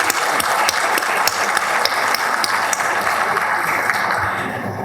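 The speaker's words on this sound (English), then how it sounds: "I would suggest we give a big round of applause to the host." Conference audience applauding the host at an important meeting in Algiers, a dense, steady patter of many hands clapping close by for about five seconds, tapering slightly at the end.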